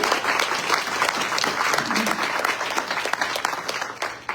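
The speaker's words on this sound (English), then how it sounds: "if we would all give a warm round of applause" Warm applause from the audience at a League of Women Voters panel event, a dense, steady wash of many hands clapping that carries on throughout and fades slightly near the end.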